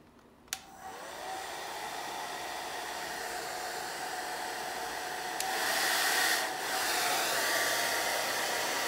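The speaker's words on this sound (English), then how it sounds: "I'm gonna take just a regular hair dryer. I'm gonna have it on," A hair dryer clicks on and runs with a steady, loud airy roar, its pitch shifting slightly partway through.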